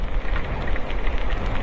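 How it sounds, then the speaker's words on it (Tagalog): Heavy rain pours steadily during a wet motorcycle ride in the Philippines, a dense, continuous broadband hiss and patter that stays loud and even throughout, with no voices. "Ang lakas naman ng ulan dito."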